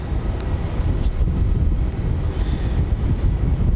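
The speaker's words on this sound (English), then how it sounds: "here is QF423 coming in on runway 16, 737-800 from Sydney" A Qantas Boeing 737-800 from Sydney lands on runway 16 at Melbourne Airport in heavy rain, a loud, steady, broadband jet roar mixed with wind and rain noise, no speech.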